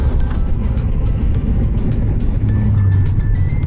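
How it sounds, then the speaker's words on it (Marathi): Traffic noise on a road during a weekend ride on a Royal Enfield Classic 350 as vehicles overtake on the left, a loud steady rumble of engines and wind with a faint horn-like tone near the end. "सो हे बघा, हे लेफ्ट साईडनं ओव्हरटेक करतात"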